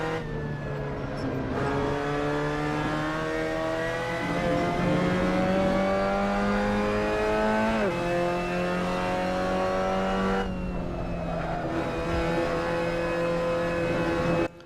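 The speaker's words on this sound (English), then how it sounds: "So this was a lap at Zandvoort with the Mazda MX-5 Cup" Mazda MX-5 Cup race car engine lapping Zandvoort in Assetto Corsa, a sustained buzzing drone that climbs through the revs, drops sharply at upshifts and braking, then builds again, close and loud with no talking.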